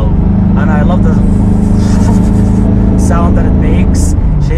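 An idling BMW M3 engine with a Greddy blow-off valve rumbles steadily and close, with brief hissy bursts near the end and people talking over it throughout.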